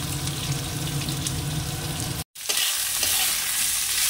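Bitter gourd and prawns frying and being stirred in a pan, a loud continuous sizzle with scraping stir strokes, broken by a sudden brief cut before the hissing resumes, brighter and sharper.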